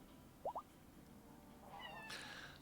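A pet cat gives two short meows in quick succession, faint and close, followed by a quiet room with low background hum and a brief high chirping sound near the end.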